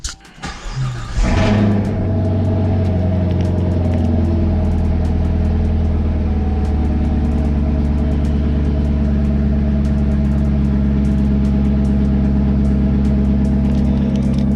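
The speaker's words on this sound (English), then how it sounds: "Now let's turn on the car and see if we got power." A 2021 Chevrolet Camaro SS starts with a brief cranking catch, then settles into a loud, steady, close-up idle with a deep, even rumble.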